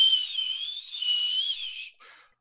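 A human voice imitates a whistle, holding one steady, slightly wavering high tone for nearly two seconds and then giving a brief, softer breathy tail.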